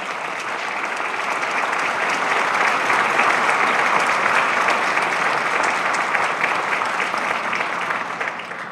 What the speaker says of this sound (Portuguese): Então, receba aqui os aplausos de reconhecimento de todos que estão nesse plenário.